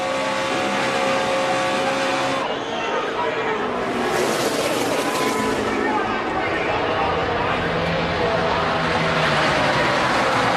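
NASCAR race cars in a pack roaring toward the finish line on the last lap, a loud continuous engine roar with crowd noise and a commentator talking over it.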